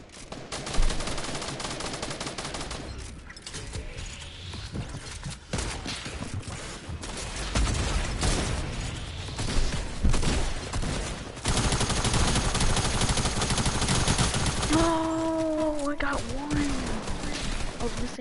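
Gunshots ring out during a trick-shooting session, sharp repeated cracks through a noisy mix with a voice speaking over parts of it.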